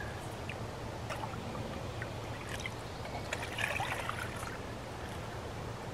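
Water trickles steadily through a 2-liter Nock filter bag at a camp, a soft continuous dribble with faint splashes, no voices.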